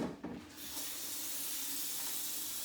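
Water runs from a tap into a pot of plantain in a home kitchen, a steady close hiss that starts after a short clatter and keeps flowing without pause.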